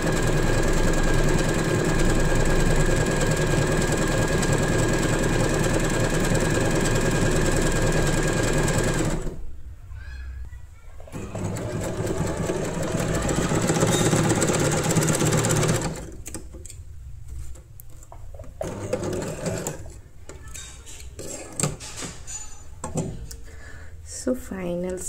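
Usha Janome Wonder Stitch sewing machine stitching a blanket stitch, a rapid steady mechanical chatter that runs in bursts, stops and restarts several times, with a voice speaking over parts of it.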